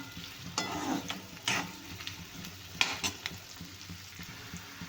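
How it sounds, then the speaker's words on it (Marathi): Onion and chillies fry with whole spices in a pan for butter chicken, a soft steady sizzle with a few scrapes and knocks of a spoon stirring, close by and without speech. "मी याच्यामध्ये कांदा आणि मिरच्या टाकून घेतल्या आहेत आता याला छान भाजून घेणार"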